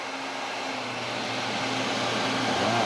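Air duct cleaning vacuum running steadily, with a brush working through residential ductwork; a constant broadband whir and hum that swells slightly toward the end, with no talking.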